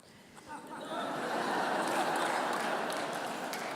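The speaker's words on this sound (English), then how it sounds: "I didn't expect to get claps for that, but I'll take it." Audience applause at a talk rises quickly into a steady, broad wash of clapping and holds for a few seconds, with a little laughter mixed in.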